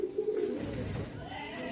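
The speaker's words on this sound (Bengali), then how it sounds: "দাশু ব্রিড জেনারেশনের পায়রা" Dasu breed pigeons coo in a low, soft warble, close and fairly steady across a short stretch, with no talk over them.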